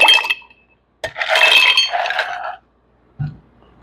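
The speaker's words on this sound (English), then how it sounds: "Now let's add a little bit of ice." Ice cubes dropped into an old fashioned cocktail glass holding bourbon, giving a sharp clink, then a longer rattling tumble of cubes settling, and a final faint knock.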